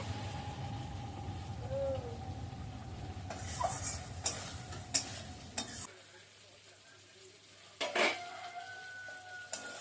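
Spice paste sizzles in oil in a pot for a taro curry, a soft steady frying hiss broken by several sharp clinks of a spoon scraping and stirring against the pan.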